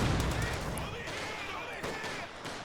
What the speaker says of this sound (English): He's brought out a mortar.